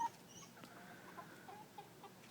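Backyard coop chickens in a city yard give soft, faint clucks in short scattered bursts against a quiet background.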